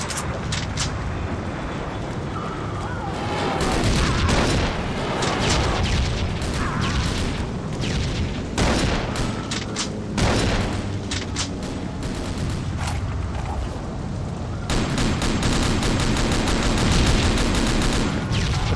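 Shotgun fire in the video game World War Zero (Iron Storm): repeated loud booming blasts over a noisy, dense battle backdrop, with sharp shots recurring every second or two throughout.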